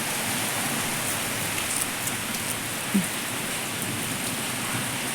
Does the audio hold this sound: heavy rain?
yes